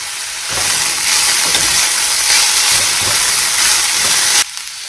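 Jackfruit curry seasoned with salt and turmeric fries in a pan with a loud, steady hiss and sizzle that runs evenly throughout and then cuts off abruptly near the end.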